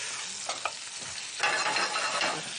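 Duck gizzard sautés in a pan with a steady, quiet sizzle, a few stirring scrapes early on, then louder frying crackle in the second half.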